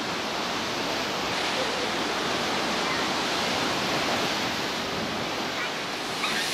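Ocean surf breaks on the shore at Biarritz in September, a continuous broad wash of roaring water that stays loud and steady throughout.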